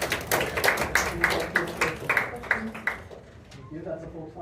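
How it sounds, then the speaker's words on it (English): A short burst of clapping from a small audience at a Latin certamen quiz competition, sharp irregular claps for about three seconds that fade out, with talk in the room over them. "let's get some applause for"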